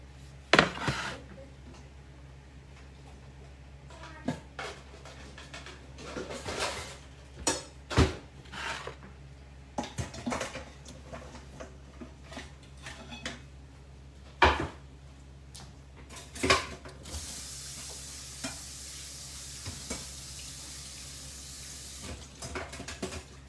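Potatoes being rinsed in a kitchen: intermittent sharp knocks and clatters against a sink or bowl over a low running-water hiss, with a brief stronger spray of tap water near the end, no voices.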